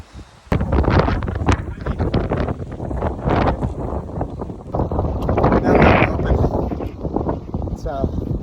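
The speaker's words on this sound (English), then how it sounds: "It's pretty windy." Strong wind in Surprise Canyon, Death Valley, buffeting the microphone in loud, continuous rumbling gusts close by, with a person talking partly under the noise.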